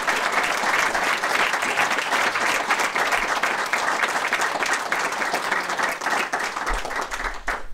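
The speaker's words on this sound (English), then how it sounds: "we'll call for a round of applause" An audience claps steadily after a talk on dereliction given to a local history society, sustained applause filling the room for about eight seconds without a break.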